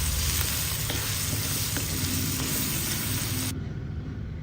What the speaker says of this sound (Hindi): इस तरह से टमाटरों को आपने तोड़ते हुए अच्छे से इसकी भुनाई करनी है ताकि टमाटर अच्छे